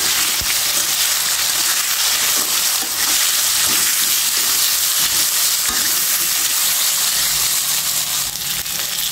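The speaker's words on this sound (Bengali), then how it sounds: "একটু হলুদ দিয়ে দেব, একটু লবণ দিয়ে আমি সুন্দর করে বাদামি কালার করে আলুটা ভেজে নেব" Potatoes seasoned with turmeric and salt fry in hot oil, a steady close sizzle and crackle that runs without a break, with occasional stirring clatter and no voices.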